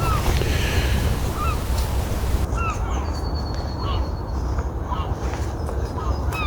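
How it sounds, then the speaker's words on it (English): Seagulls call repeatedly in short, rising cries over steady wind and outdoor noise in a winter orchard, mostly at a moderate distance. "Just me and the seagulls."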